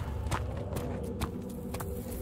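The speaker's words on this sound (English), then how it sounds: "I'm hearing something that runs with me." Running footsteps in the horror game Amnesia: The Dark Descent, a steady patter of soft thuds repeating through the clip over a low droning ambience, with no voices.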